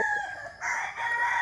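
A brief rooster crow, fairly close and clear, with a rising then sustained strained call.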